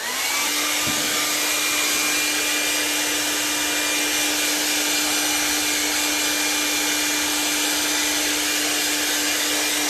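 A hair dryer blows steadily and loudly on a wet painting whose colours have been blending, its continuous broadband whoosh with a steady motor whine running unbroken throughout, alone without talk.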